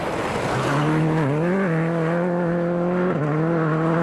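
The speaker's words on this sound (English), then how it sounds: "And don't forget, Colin's chasing Tommy Mäkinen." A rally car on a gravel stage at WRC Wales 2003 screams past, its engine note rising and dropping sharply through gear changes, loud and close with no talk.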